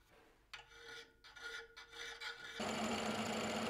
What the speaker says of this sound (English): Practicing some more hand filing here and chamfering and so on.